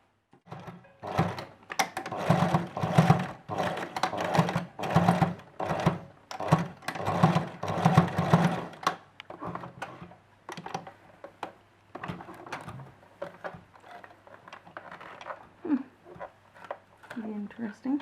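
A sewing machine stitches down the shoulders of a simple dress, running in steady rapid bursts for about nine seconds, then giving way to scattered clicks and thumps while a person talks.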